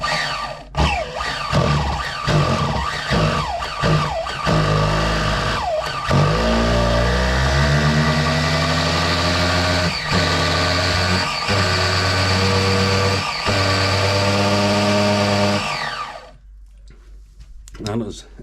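A Team Associated RC8 nitro buggy engine being primed and turned over in short bursts, repeated sharp mechanical pulses giving way to a sustained loud buzzing whine with rising harmonics, then stopping abruptly near the end.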